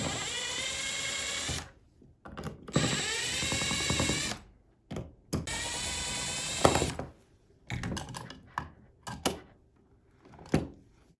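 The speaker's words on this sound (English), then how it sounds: "you can use a drill to loosen" A power drill backs out the four back-cover screws on a Clean Logix CAN-SO-4 unit, giving several loud, close whirring bursts separated by short pauses, with a few brief clicks near the end.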